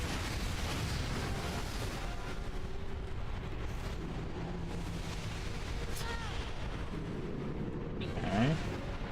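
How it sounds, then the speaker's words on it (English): Bombs dropped in the PS3 game Mask of Folklore go off as a continuous, heavy, rumbling wash of blasts, steady and fairly loud throughout, with a brief sharper swell near the end. "so it drops bombs"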